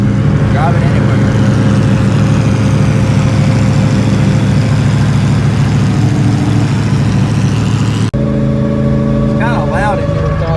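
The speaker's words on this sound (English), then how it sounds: "You can hear that spool too." Inside a stripped-out car with a turbocharged Ford Coyote engine and an 80mm On3 turbo cruising on the highway, a loud, steady engine drone fills the cabin while someone talks over it. There is a brief cut near the end.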